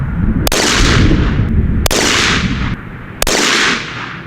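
Three loud rifle shots fired at a 100-yard target while sighting in a hunting rifle in Michigan, evenly spaced about a second and a half apart, each a sharp crack with a rumbling tail.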